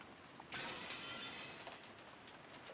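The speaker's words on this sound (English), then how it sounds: "Smashing the UI away like glass to get back to the game." Glass shattering effect in the Umineko: When the Seagulls Cry visual novel, one sudden crash followed by a fading tinkle of scattered shards, quiet and alone.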